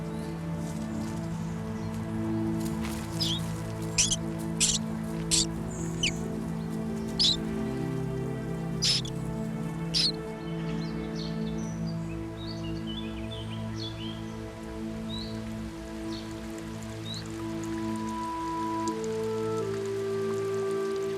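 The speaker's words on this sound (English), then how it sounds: "At last, the rain comes." Rain patters in a garden, a soft steady hiss with scattered sharp drips and faint rustling, while birds chirp intermittently in the background.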